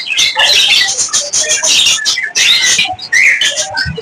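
Talking mynah birds at a bird seller's shop give loud, busy chirps, whistles and squawks in quick overlapping bursts, close by and continuous, with no talking.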